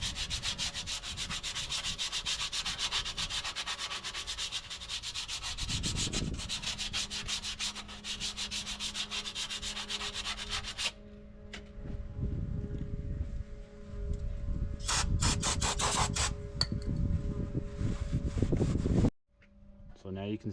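Rusty buildup on a 2003 Ford F350 brake part is sanded with a harsh, continuous abrasive rasp that shifts in tone as strokes change. A brief lull comes midway, then the grinding scrape resumes loudly.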